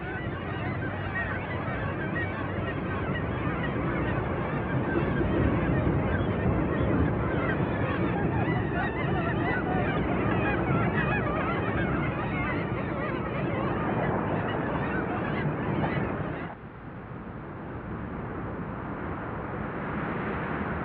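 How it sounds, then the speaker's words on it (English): Black-legged kittiwakes call at a crowded nesting cliff, a dense, continuous chorus of many overlapping harsh cries, fairly loud and unbroken, dropping slightly in level near the end. "black-legged kittiwakes come here to nest"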